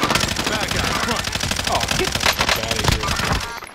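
Rapid automatic gunfire in Call of Duty, loud and sustained in dense bursts for nearly four seconds, with a faint voice briefly under the shots.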